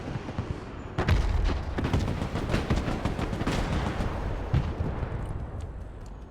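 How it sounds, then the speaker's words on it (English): Artillery fire booms in the Broken Arrow video game, a dense continuous barrage of rumbling blasts and sharper reports layered over one another, loud and sustained with no speech. "Artillery ready to fire, sir. Providing direct fire."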